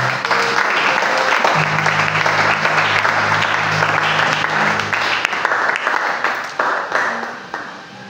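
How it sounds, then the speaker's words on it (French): A church congregation breaks into loud, sustained applause acclaiming the Lord, dense clapping from many hands filling the room at close range, with a few voices and a low hum beneath, tapering slightly near the end. "Est-ce qu'on peut acclamer le Seigneur?"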